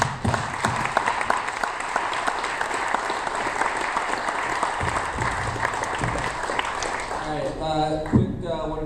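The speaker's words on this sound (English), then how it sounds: "Big round of applause." Audience applause for a sports tech panel at an evening talk event, steady dense clapping from a crowd filling most of the stretch before fading, with a voice speaking near the end.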